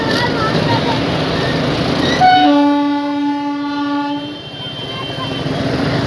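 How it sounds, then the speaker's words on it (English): A train arriving at a busy railway station sounds a loud, sustained horn for about two seconds over steady crowd and platform bustle, with the rumble continuing after the horn stops. "I think the train has come"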